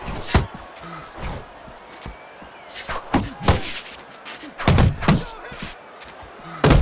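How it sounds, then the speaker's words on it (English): In the Fight Night boxing video game, an uppercut and other punches land as a series of heavy, dull thuds at an irregular pace, some sharp and loud, over a quiet background. "That was a solid uppercut"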